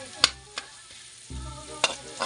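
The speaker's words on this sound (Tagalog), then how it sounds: "Pag nagigisa ako mga sir, sinasabay ko na yung sibuyas sa bawang." Onion and garlic sautéing together in a pan, a soft close sizzle punctuated by a few sharp clacks of a utensil stirring, swelling briefly as the pieces are moved, with no voices.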